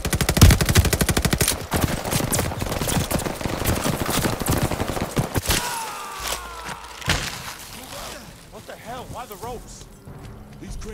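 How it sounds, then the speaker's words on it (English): Rapid automatic machine gun fire rips at a tree in the Call of Duty War of Bougainville jungle battle, a dense loud burst for several seconds before the shooting fades into voices and quieter combat ambience. "Open fire on that tree."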